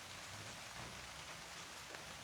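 Rain during a storm in Los Angeles falls steadily, a faint, even hiss.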